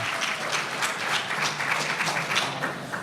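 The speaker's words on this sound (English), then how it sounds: "Please give her a round of applause, Yvette Duclark." Audience applause for Congresswoman Yvette Duclark at a conference panel, a steady crowd clapping that fills the whole moment at moderate volume, continuous and even.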